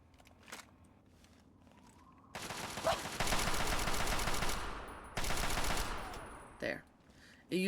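An Infiltrator rifle fires in the video game Fallout 3, loud rapid automatic bursts running for a couple of seconds, a short pause, then another sustained burst, with brief quieter sounds on either side.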